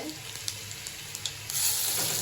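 Garlic and a dried chili frying in hot oil for greens, a soft sizzle with small pops and ticks that swells louder near the end.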